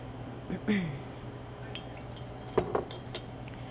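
Two tablespoons of vinegar are measured with a small measuring spoon into a 32-ounce glass jar, with a few quiet clinks of spoon on glass and a brief soft pour against a low background hum.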